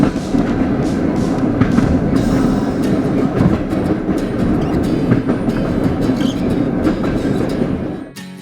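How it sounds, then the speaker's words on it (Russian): A passenger train departs Aktau, Kazakhstan, its steady loud rumble and rhythmic wheel clatter on the rails filling the recording from up close, then cutting off abruptly at the end. "И мы покидаем Октау на поезде."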